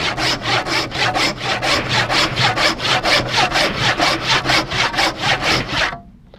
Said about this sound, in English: I can begin to worry less about the way the saw is tracking here